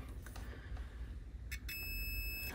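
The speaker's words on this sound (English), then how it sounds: "If this fuse is good, we should hear a beep." A steady, high electronic beep from a multimeter continuity test on a fuse starts abruptly and holds, loud against a faint background hum.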